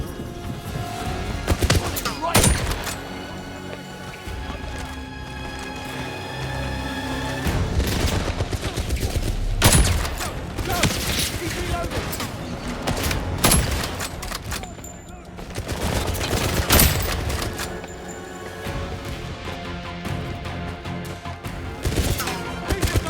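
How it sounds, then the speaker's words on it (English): Gunfire rattles through a combat scene in the video game 007 First Light, with dense bursts of shots and booming impacts over continuous music and effects, loud and sustained, while voices speak at times. "Those shots must be from him."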